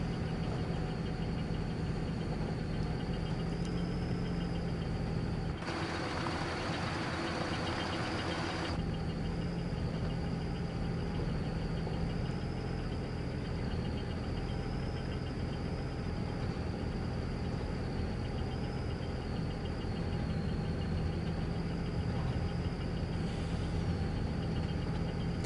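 A tractor engine in Farming Simulator 22, on the Iowa Plains map, drones at a steady idle-like hum for about twenty-five seconds, with a short burst of broader noise early on and no speech.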